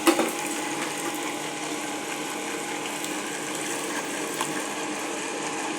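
A wet grinder churns soaked rice into idli and dosa batter with a steady, even wet grinding and swishing rumble, close and continuous, without talking.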